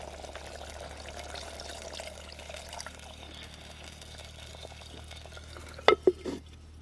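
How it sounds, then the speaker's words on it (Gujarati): A short splash of water poured into a pan of cooking ridge gourd and cluster beans, with stirring and faint cooking sizzle quietly underneath before it. "થોડું પાણી નાખી દઈએ"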